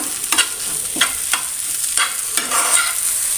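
Drumstick flower thoran being stir-fried in a pan, with a steady sizzle broken by five or six scraping stirs of a spoon at roughly even intervals.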